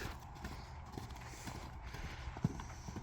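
Hooves clopping at a steady walking pace on the ground, fairly faint, with outdoor background noise throughout.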